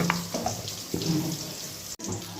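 A mixer-grinder bowl is rinsed under a running kitchen tap, with close, continuous water splashing and some tonal, voice-like sounds, broken by a brief cut just before the end.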